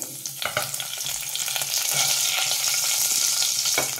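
Mustard seeds, cumin and curry leaves crackle and sizzle loudly in hot oil in a kadhai, a close continuous spitting fry with sharp pops, no talking.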